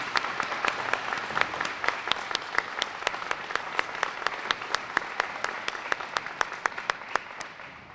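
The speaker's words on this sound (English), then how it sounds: "Let's give these scholars a huge round of applause." Audience applause at a middle school dedication ceremony, a crowd clapping steadily with several sharp, close individual claps standing out in a quick, regular rhythm, fading slightly toward the end.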